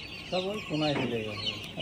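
Broiler chickens clucking close by in a poultry shed, a few short harmonic calls in quick succession over a low background hum.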